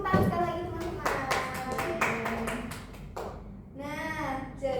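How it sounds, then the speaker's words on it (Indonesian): Students in a microteaching practice classroom clap their hands together in a short round, the claps sharp and close, while children's voices and a teacher's speech run over and after it. "beri tepuk tangan sekali lagi teman-teman"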